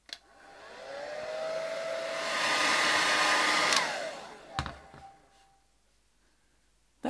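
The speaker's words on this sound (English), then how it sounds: "I'm going to go with the hairdryer and see if we can just dry this out a little bit" A hair dryer blows on a resin casting mold, its whine ramping up to a steady loud roar, then cutting off with a few clicks and handling bumps before quiet.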